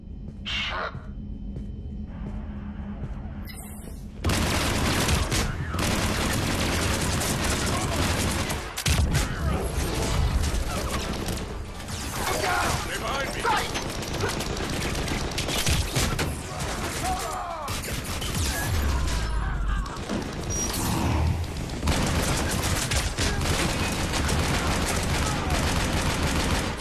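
Sustained gunfire and combat noise in the video game Mass Effect 3, Citadel DLC, a dense continuous barrage of shots and impacts after a brief quieter opening, loud and layered with game effects.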